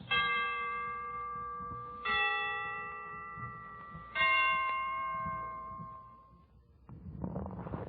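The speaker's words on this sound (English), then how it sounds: "The Christmas bells can ring anytime they're ready." Christmas bells on an old-time radio broadcast strike three times about two seconds apart, each ringing tone decaying slowly, followed by faint crowd-like noise at the end.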